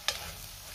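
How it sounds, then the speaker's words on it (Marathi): Masala paste sautéing in a pan gives a soft, steady sizzle, fairly faint and close, opened by one brief scrape of stirring. "2 ते 3 मिनिटं आपल्याला हे वाटण चांगलं परतून घ्यायचे"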